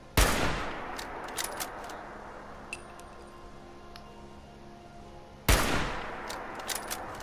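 Two sharp video game gunshots crack about five seconds apart while shooting at a Scorched mutant, each followed by a ringing decay and faint ticking game noises.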